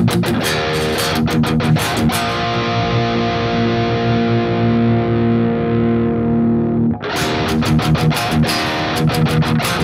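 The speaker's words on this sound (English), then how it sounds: "with the drive knob we can introduce some more distortion" Electric guitar on a seven-string, pushed through amp drive distortion: loud, crunchy palm-muted chugs, then a long ringing distorted chord, then more tight rhythmic chugs, with no voices.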